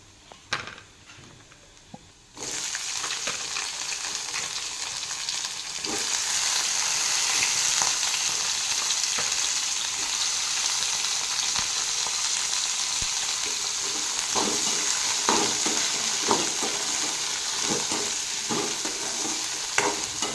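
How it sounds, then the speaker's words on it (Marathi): Chopped ivy gourd (tondli) frying in a pan, a steady broadband sizzle that starts abruptly after a quiet opening and continues loud and close, with occasional soft scrapes of stirring. "मी आता यामध्ये तोंडली थोडी फ्राय करणार आहे"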